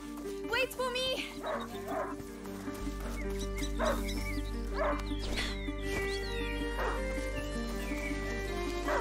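Hunting dog barking in the video game A Plague Tale: Innocence, a few yelping barks scattered across the stretch, mixed into music and game ambience rather than standing alone.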